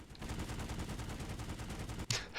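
Sustained automatic gunfire from PlanetSide 2 suppressive fire, a dense, steady rattle of rapid shots lasting the whole stretch, with a sharper, louder burst near the end.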